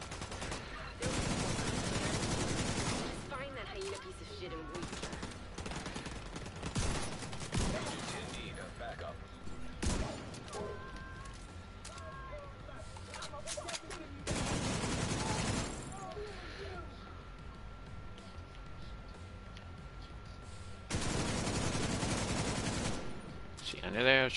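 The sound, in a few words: gunfire in a video game shootout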